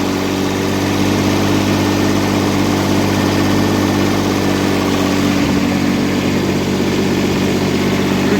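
A GAB-4 generator converted to run on diesel chugs steadily at idle, a loud, continuous engine drone with a constant low hum and vibration throughout, no voices.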